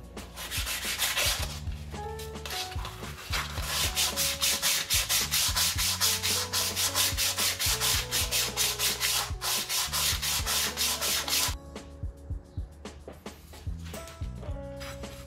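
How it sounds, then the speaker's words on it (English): Steady back-and-forth rubbing of P600 sandpaper on an aluminum part from a Yamaha XS650 big bore motorcycle build, a continuous loud gritty scraping in quick repeated strokes that stop briefly near the end before resuming. "So this is P600."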